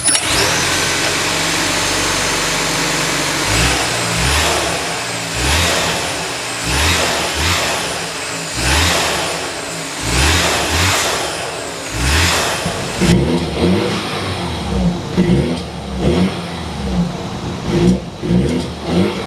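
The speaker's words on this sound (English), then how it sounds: "Under the hood is a 2-liter twin-powered turbocharged inline 4" A 2-liter twin-power turbocharged inline-four in a 2026 BMW X3 xDrive30 runs steadily and revs in repeated rising pulls, loud and close, then settles into a lower, rougher hum.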